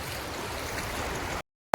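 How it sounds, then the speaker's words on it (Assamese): Floodwater flowing into a river, a steady rushing and gurgling wash of water heard close for over a second before a sudden cut to silence and a brief burst at the end. "পানী কোনখিনিৰ পৰা আহি আছে দেখাই দিম আপোনালোকক"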